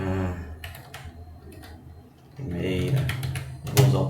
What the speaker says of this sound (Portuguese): Vou usar o teclado